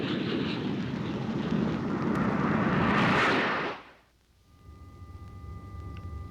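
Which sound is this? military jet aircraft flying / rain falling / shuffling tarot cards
military jet aircraft flying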